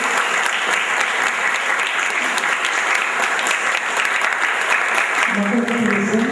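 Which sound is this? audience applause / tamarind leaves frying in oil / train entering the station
audience applause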